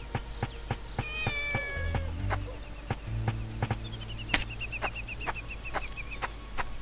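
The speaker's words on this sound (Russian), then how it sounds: "Привет, милый котеночек." A kitten in the video game Shenmue meows in several short, mid-loud calls, spread across a quiet scene with soft, regular in-game footsteps and ambient background tones.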